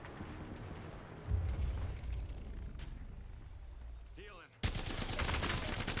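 Rapid bursts of gunfire in Apex Legends, fired during a Bangalore match, come in dense sustained volleys with a short gap before a final loud burst.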